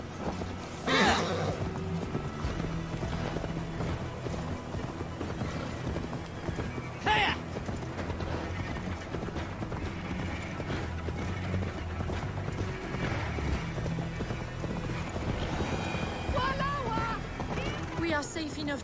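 A horse in Assassin's Creed Valhalla gives a couple of sharp whinnies over rhythmic clip-clopping hooves, with game music and character voices talking throughout.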